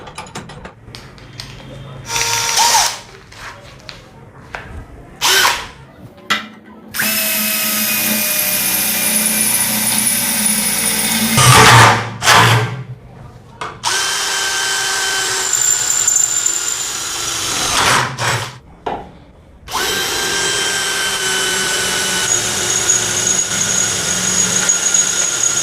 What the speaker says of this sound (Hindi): अब हम लोग करेंगे मेटल प्लेट्स पे ड्रिल